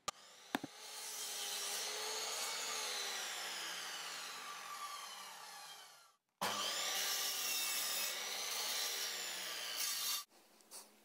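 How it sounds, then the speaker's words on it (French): A handsaw cuts reclaimed wooden battens to 58 cm length in two long sawing passes, each a steady rasping stroke pattern close to the microphone, separated by a brief pause and ending with a light knock. "Coupez ensuite deux tasseaux de 58 cm de longueur chacun."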